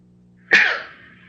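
A single sharp sneeze bursts out loud and close, rising quickly and fading over about half a second against a quiet background.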